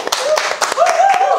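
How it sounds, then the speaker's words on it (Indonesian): A short burst of hand clapping for Diki Zulkarnain on a talk show, a few loud claps mixed with voices talking over them. "Diki Zulkarnain, tepuk tangan dong."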